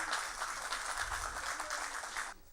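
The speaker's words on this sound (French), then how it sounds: "On applaudit" A steady wash of applause from a crowd at a commemoration of 17 October 1961, continuous and fairly even, fading slightly at the very end.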